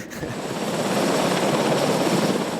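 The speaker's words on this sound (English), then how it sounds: "We were constantly interrupted by the sounds of choppers overhead." Helicopters flying overhead in post-storm Puerto Rico, a steady, loud rotor drone that swells slightly and holds without a break throughout.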